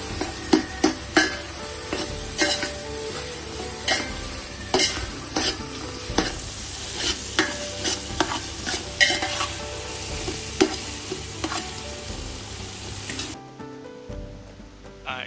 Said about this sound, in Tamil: மூணு பழம் தக்காளியை போட்டு தக்காளியும் கொஞ்சம் நல்லா வதக்கலாம்